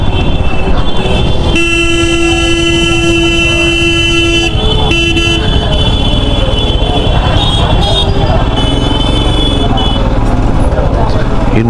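Several vehicle horns honk over steady Indian traffic noise, one long sustained blast followed by shorter toots, loud and close.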